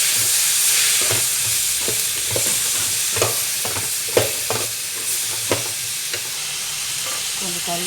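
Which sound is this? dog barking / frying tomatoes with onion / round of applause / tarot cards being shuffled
frying tomatoes with onion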